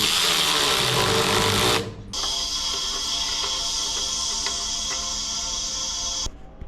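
An air compressor on a Peterbilt truck repair setup runs with a loud, steady mechanical whine and hum; the pitch shifts sharply after a brief dip, then it holds level before a sudden drop near the end.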